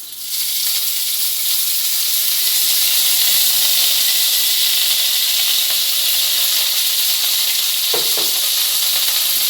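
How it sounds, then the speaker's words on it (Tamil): Steady, loud sizzling of small onions and tomatoes frying in hot oil, a continuous bright hiss with a few soft stirring clicks near the end. "இந்த தக்காளியும் இந்த சின்ன வெங்காயமும் நல்லா வதங்கி வரணும்"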